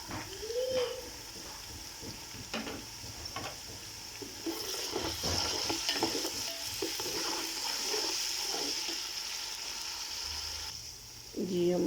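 Ginger garlic paste frying in hot oil for a beef pulao, a continuous close sizzle with repeated stirring and scraping of the pan.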